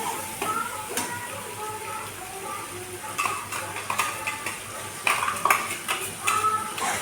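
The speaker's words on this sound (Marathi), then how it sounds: "जे अद्रक लसण कांदा याचं आपण वाटण टाकलेलं आहे तेलामध्ये ते छान असं लालसर कलर येतपर्यंत तेलामध्ये याला चांगलं होऊ द्यायचं." A ground paste of ginger, garlic and onion frying in oil in a pan for a spicy jackfruit curry, with a continuous sizzle and repeated clinks and scrapes of a stirring spoon against the metal pan, growing busier toward the end.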